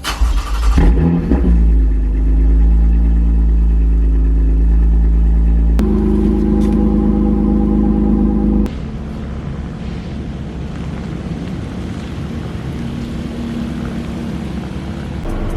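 A large Toyota TRD truck engine cranks on a cold start, catches and roars loudly to life, then settles into a rough, rumbling idle that continues steadily.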